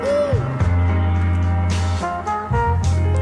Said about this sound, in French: C'est exactement le même son de piano.